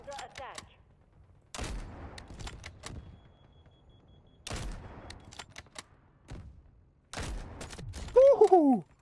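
Sharp gunshots in the Delta Force Havoc Warfare game, fired in spaced single shots and short bursts with quiet gaps between them, followed by a loud excited voice at the end.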